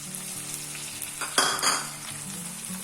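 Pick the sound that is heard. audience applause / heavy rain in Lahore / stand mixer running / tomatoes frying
tomatoes frying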